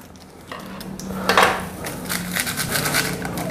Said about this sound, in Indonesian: Siapkan panci.